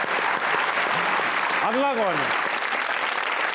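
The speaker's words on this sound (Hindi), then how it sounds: "तालियां बजाएं यार मोहम्मद अली के लिए।" Studio audience applause for Mohammad Ali on a Pakistani comedy talk show, steady clapping throughout with a host's voice briefly speaking over it midway.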